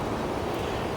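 Heavy wind during a wind advisory at a bug-out camp. A dense, steady roar of wind noise buffets the microphone through the whole short stretch, and no voices are heard.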